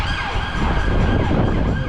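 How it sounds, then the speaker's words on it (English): A police car siren wails loud and continuous on a London street, its pitch sweeping steadily over traffic noise. "See a police car over there."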